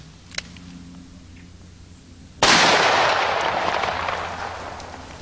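A single loud revolver shot firing a full-charge 240 grain load goes off outdoors with a sharp crack, followed by a long rumbling echo that slowly fades. A faint click comes just before the shot, and no one talks.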